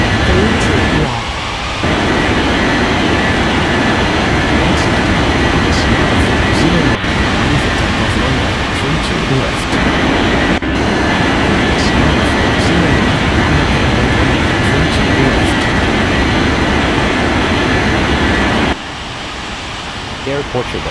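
Jet airliner engines in an air traffic control simulation, a loud continuous broadband roar that holds steady for most of the stretch with brief dips, heard alone without talk.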